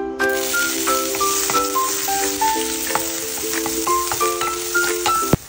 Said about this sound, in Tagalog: magisa na tayo ng bawang